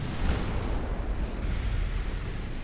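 Battleship guns fire in the naval game Ultimate Admirals: Dreadnoughts, a loud, continuous rolling boom of heavy gunfire with dense low rumble across the whole stretch and no talking.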